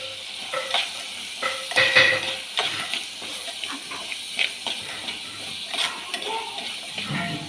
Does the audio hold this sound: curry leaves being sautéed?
yes